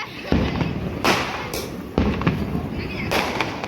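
Diwali firecrackers and fireworks burst in a family celebration, with sharp loud cracks and thumps at about 0.3, 1.1, 2.0 and 3.1 seconds. Crackling and voices continue between the blasts.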